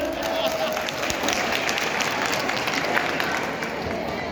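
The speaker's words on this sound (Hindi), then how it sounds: "जोर से बजा खलनायक के लिए ताली बजा दो" A large crowd at a college annual function in Jamgaon claps in a sustained, roomy wash, with crowd murmur and faint cheering mixed in throughout.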